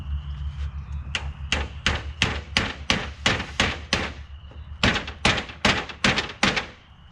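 Steady hammer blows strike wood while building garden beds, close and sharp, in a regular rhythm of about fifteen hits with a short pause midway.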